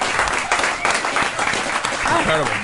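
Studio audience applauding on a radio talk show, a steady broadband patter of clapping that carries through the clip with talk and laughter mixed underneath.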